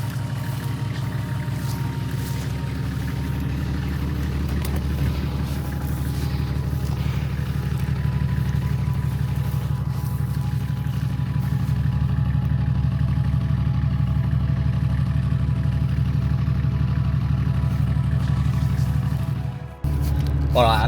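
A 4WD engine idles to charge its batteries on an abandoned track during a storm, a steady low mechanical hum with a faint clatter throughout, close and unbroken until a brief dip near the end.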